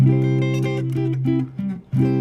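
A bright, sustained major triad played on a keyboard or similar instrument, sounded several times in quick succession, clear and close with no talking.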